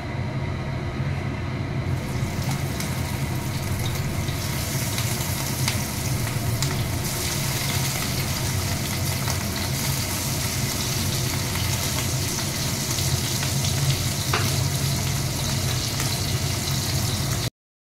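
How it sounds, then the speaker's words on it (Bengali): Pieces of katla fish frying in hot oil, a dense even sizzle close by that holds steady throughout and stops abruptly at the end. "তেল গরম হয়ে গেছে, এবার আমি এক এক করে মাছটা ভাজবো।"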